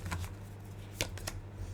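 Tarot cards being shuffled, a couple of soft riffling flicks and crisp card snaps close by over a faint low room hum, no talking.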